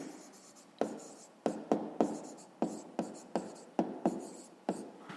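Pen writing on paper while working a grade 5 maths exercise: a steady run of close, dry scratching strokes, each starting with a sharp tap and fading quickly, repeating about every half second.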